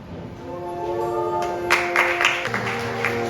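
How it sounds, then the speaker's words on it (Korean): Wedding guests in a wedding hall clap for the bride's entrance while music plays. The applause swells partway through and sits over the sustained musical tones. "내빈 여러분께서는 큰 박수를 보내주시면 감사하겠습니다"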